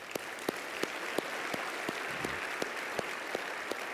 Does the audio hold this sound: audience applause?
yes